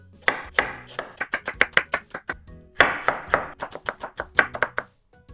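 A knife slices and dices an ingredient on a cutting board in two quick bursts of crisp, rhythmic chops, each stroke sharp and close, with a short pause between the runs.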